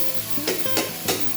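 Marinated pork bulgogi sizzles steadily in a hot oiled pan, with a few stirring scrapes breaking through the close, continuous frying hiss.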